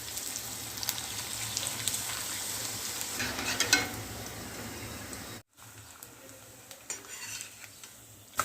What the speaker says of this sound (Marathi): सर्वात आधी आपण हे तळून बघूया